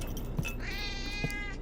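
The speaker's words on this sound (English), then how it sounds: "Oh wait, that's a cat." A cat meows in The Operator video game, a single drawn-out, rising-then-falling meow heard fairly clearly over a faint steady background with a couple of soft thumps.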